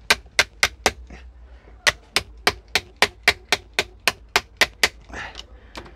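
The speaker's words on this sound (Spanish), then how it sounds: "He golpeado con un martillo un poquito más fuerte" Hammer blows on the metal cover of a John Deere 310 E or 310 G backhoe starter, struck in a rapid series of about seventeen sharp, loud, evenly spaced hits with a brief pause midway.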